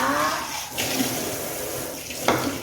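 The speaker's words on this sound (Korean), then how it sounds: "조개도 찬물에 한번 헹궈주도록 하겠습니다" Clams rinsed under cold running tap water while preparing a tomato seafood spaghetti, a steady close splashing stream with a brief louder splash near the end.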